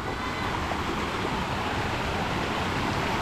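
Floodwater in a swollen river rushes past a damaged road beside rice fields, a steady, dense, loud roar of water with no break.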